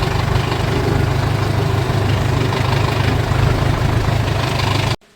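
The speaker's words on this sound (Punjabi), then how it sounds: "ਆ ਗਿਆ ਬਈ ਟਰੈਕਟਰ ਘਰੇ" A tractor engine idles steadily and loudly at close range, a low rumbling drone that cuts off abruptly near the end.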